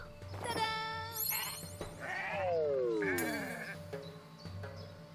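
Sheep bleats from the video game Renowned Explorers ring out several times alongside bright game sound effects, sliding tones and chimes over a soft pulsing music bed, with no talk.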